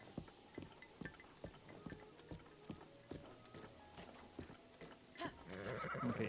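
A horse in a Zelda game neighs and whinnies while its hooves clip-clop in a steady rhythm through a town, with a louder burst of whinnying near the end.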